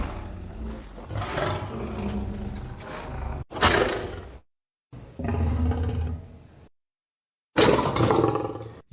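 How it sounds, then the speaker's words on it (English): Raw lion and tiger roar recordings from BBC sound libraries play one after another: deep, rough, full-bodied roars and growls, loud and close, separated by short silent gaps, with some background noise from the recording equipment. "how the lion and tiger recordings sound"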